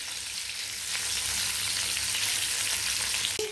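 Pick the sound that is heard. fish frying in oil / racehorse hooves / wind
fish frying in oil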